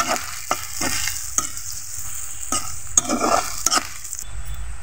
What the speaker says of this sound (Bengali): এভাবে ছুরির সাহায্যে পেঁয়াজ কুচিগুলোকে হালকা ভেজে নিতে হবে।